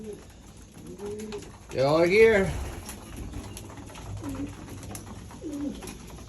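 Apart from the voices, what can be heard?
young racing pigeons cooing at the loft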